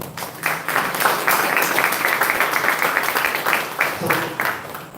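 Audience clapping at a live talk, a dense wash of many hands that swells, holds steady, then thins with a few scattered final claps.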